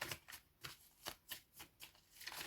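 A deck of tarot cards is shuffled close up, with about seven quick riffling bursts in an even rhythm, soft and crisp, and nobody speaking.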